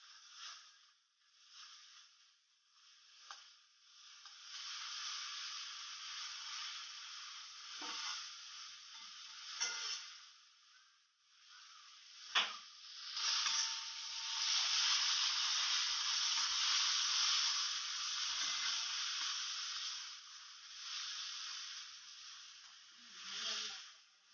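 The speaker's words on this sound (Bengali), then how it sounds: "এটা অনেকক্ষণই কষাতে হবে, যতক্ষণ না তেলটা ছাড়ে ততক্ষণ একেবারে কষিয়ে নেবো" Spiced duck egg masala frying in oil in a pan, a steady bright sizzle throughout that swells and eases with stirring, with occasional soft scrapes and clinks.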